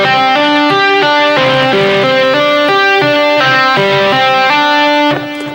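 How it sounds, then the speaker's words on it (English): A distorted electric guitar plays a fast pentatonic lick of tapped notes and pull-offs, each note clearly separated in a quick, even, repeating run. The guitar sounds loud and close, with no voice over it. "So we tap down with the tapping finger, pull off, pull off, pull off"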